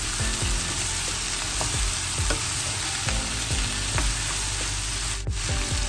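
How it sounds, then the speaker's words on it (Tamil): Broad beans sauté in a pan with a constant close frying hiss, while a utensil rubs and scrapes rhythmically across the bottom in repeated strokes, with no one speaking. "இது ஒரு 2 நிமிஷம் வதங்கட்டும்"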